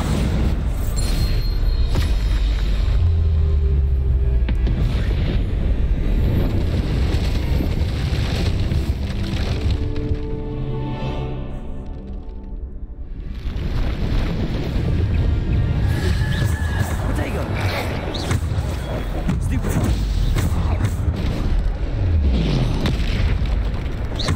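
Bombarda blasting-spell explosions in the Hogwarts Legacy video game, loud booming blasts and rumbling roar continuing almost throughout, easing briefly midway before building again.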